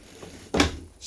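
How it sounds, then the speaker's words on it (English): A storage drawer slides open inside a 2021 Keystone Hideout 25RL travel trailer, one short close scrape and thump with quiet room tone around it. "storage drawer over there. Really quite cool."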